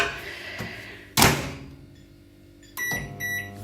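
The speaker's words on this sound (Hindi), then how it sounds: "तो इसे रखते हैं माइक्रो ओवन में, और थोड़ा सा गर्म कर लेते हैं।" A home microwave oven reheating food: a sharp thunk of the door closing, then a low steady hum, followed by another door or button clunk near the end, close and quiet, no talking.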